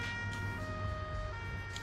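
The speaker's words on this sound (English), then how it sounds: "I hear a siren and I'm scared." Emergency vehicle siren in the BeamNG driving game, a steady wailing tone held under engine and road noise, moderately loud and constant throughout.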